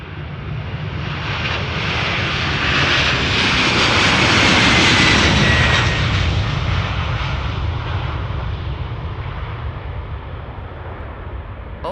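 Old airliner with smoky jet engines, the left one especially, departing Amsterdam Schiphol Airport: a loud, sustained roar that swells to a peak midway, then slowly fades as the aircraft climbs away, with no talk over it.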